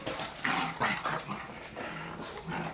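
Several dogs, including a small black one, play-fight with a run of growls and scuffling. The sounds are close and fairly loud, with a few sharper bursts, and there is no talk.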